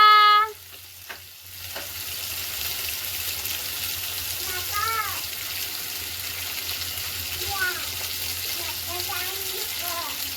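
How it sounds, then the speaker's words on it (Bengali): Fish frying in a pan gives a steady, moderately loud sizzle that runs throughout, with a clattering start and a few short birdlike whistles layered over it. "মাছগুলো ভালো করে ভেজে নেবো"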